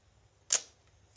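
Shutter of a FED 4 Russian 35mm rangefinder camera firing once, a single sharp mechanical click that rings briefly and decays, close and clear against a quiet background.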